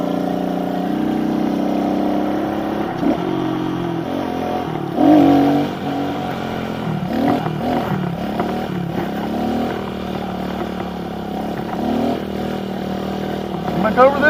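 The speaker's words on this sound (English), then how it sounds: "wheelie footage so you can see how my wheelies really look from the outside" A motorcycle engine revs during wheelies, rising and falling in pitch and holding fairly close, with a person talking over it.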